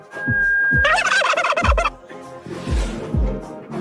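A turkey gobbles loudly and close by in rapid warbling bursts, with low thumping beats underneath.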